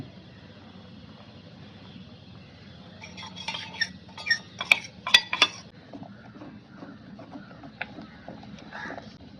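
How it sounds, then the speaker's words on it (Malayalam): Custard being stirred nonstop in a pan while it thickens, with a steady run of scraping and clinking utensil strokes against the metal, louder and busier in the middle, over a low background hum. "ഇനി അതിലേക്ക് നമുക്ക് കസ്റ്റാർഡ് ഒഴിച്ചോളൂ. നിർത്താതെ ഇളക്കണം കേട്ടോ."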